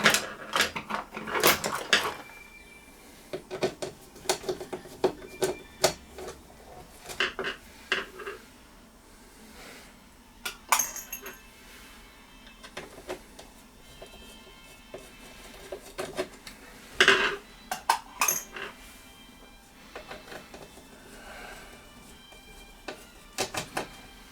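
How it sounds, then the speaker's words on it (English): Intermittent clicks, clunks and light metallic rattles as screws are taken out of the back panel of an HMV Stereomaster radiogram, close by in irregular bursts with quiet gaps, and no one speaking. "we'll now take these screws out of the back panel."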